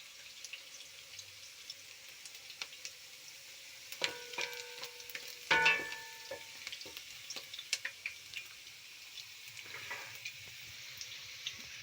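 Onions frying in a pan while matoke is cooked in a home kitchen, a steady soft sizzle with occasional stirring scrapes and a brief clatter of utensils midway.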